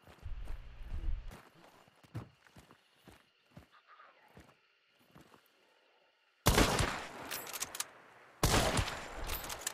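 Gunfire in an online shooter video game comes in two loud, dense bursts near the end, after a stretch of quieter scattered clicks and footstep-like taps.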